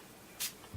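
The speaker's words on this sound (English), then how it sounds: "now I'm just gonna set and spray with her Avon True Color makeup setting spray" A short single burst of Avon True Color makeup setting spray, one quick hiss up close, brief and fairly loud against a quiet room.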